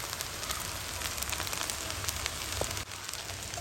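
Cooked rice frying in oil in a pan, a steady crackling sizzle with scattered pops that holds at an even level throughout.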